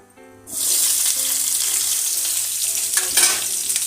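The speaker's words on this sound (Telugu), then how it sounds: "రెండు గ్రీన్ చిల్లీ, కొంచెం కర్రీ లీవ్స్ వేసుకుని శుభ్రంగా ఫ్రై చేసుకుందాం" Onions, green chillies and curry leaves hitting hot oil in a pan, a sudden loud sizzle that jumps in and then holds as a steady hiss, with faint stirring scrapes near the end.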